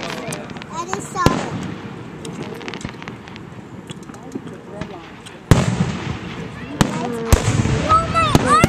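Fireworks at an evening display in Huntington burst with a few sharp, loud booms scattered among steady distant crackling, as people talk excitedly throughout.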